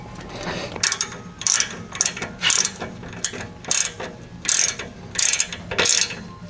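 Ratchet wrench clicking in repeated short bursts while a brake line fitting is tightened during a Nissan 370Z brake upgrade, each burst sharp and close with brief pauses between.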